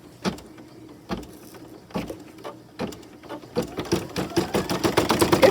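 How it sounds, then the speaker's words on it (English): A home embroidery machine stitching an in-the-hoop Halloween design starts with a few slow, separate needle thumps, then speeds up into a rapid, rhythmic mechanical chatter close by. "place it in here and do the final stitching"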